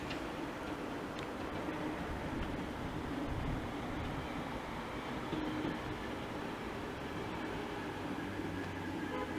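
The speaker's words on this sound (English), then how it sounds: "now passing, or arriving even, is 2 Delta 11, the 1036 TfL London Overground service" A London Overground train on the Cheshunt to Liverpool Street service pulls into Bethnal Green station with a constant, close rumble and faint ticking rail clicks; no voices.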